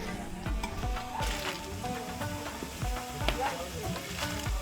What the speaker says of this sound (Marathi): इथे फणसाचे जे गरे आहेत त्याचे चिप्स बनता आहेत